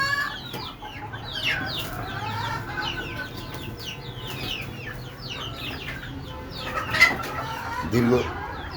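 Desi chickens raised on a rooftop cluck and chatter in repeated, overlapping calls, with a louder squawk near the end against steady background noise.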